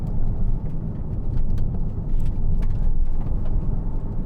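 A 2012 Porsche Cayman 987 2.9 with PDK gearbox pulls away and drives, its engine a steady low rumble with road noise heard from inside the car, continuous and fairly loud with no talking.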